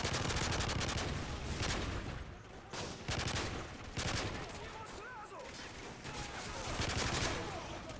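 Sustained covering fire from the Modern Warfare 3 video game's survival mode on the Terminal map, with dense rapid machine-gun bursts and scattered gunshots, loud and continuous throughout.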